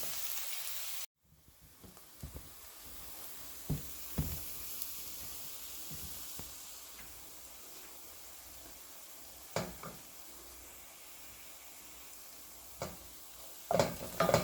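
Onion and green chilies sautéing in a pan on low heat for a tomato curry give a faint, steady sizzle, with occasional soft clicks and stirring scrapes, and no one speaking.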